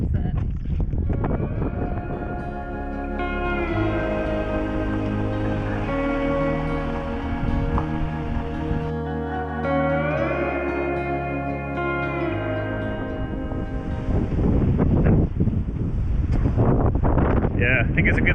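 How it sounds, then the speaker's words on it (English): Strong coastal wind buffets a parked camper van on Cornwall's north coast, a loud continuous rumble and roar that builds toward the end while people talk inside. "even here it's ridiculously windy"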